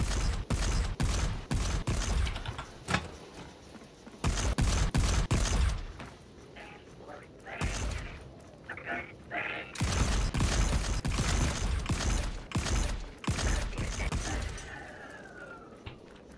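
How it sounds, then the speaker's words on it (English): In the video game Volcanoids a power plant is switched on, and it answers with loud bursts of heavy mechanical clanking and rattling, several long runs split by short gaps, plus a rising whine near the end, with no talk. "So we have to switch on the power plant."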